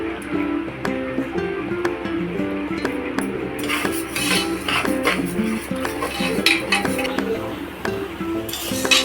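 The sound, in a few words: moong dal being roasted in ghee in a pan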